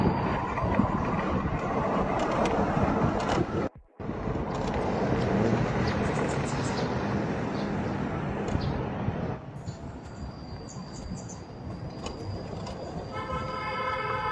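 A Charged Rimau electric motorcycle pulls away in first gear in Eco mode, a steady loud rush of motion and wind noise with a brief dropout, easing slightly later on.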